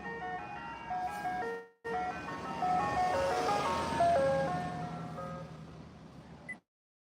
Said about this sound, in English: I'm always freaked out now when I see ice cream trucks